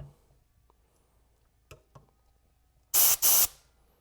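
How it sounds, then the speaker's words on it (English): A handheld blower clears out a chainsaw's bar oil hole with two short, loud blasts of rushing air back to back, after a few faint clicks of handling. "So I get right on it with my blower and I blow it right through."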